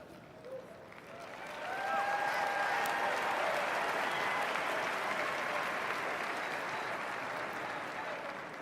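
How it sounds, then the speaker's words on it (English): A large crowd at a U.S. presidential inauguration event breaks into sustained applause and cheering that swells within two seconds and holds steady, dense and distant-sounding, with a few raised voices inside the roar. "Those men and women cheering, chanting over and over and over again"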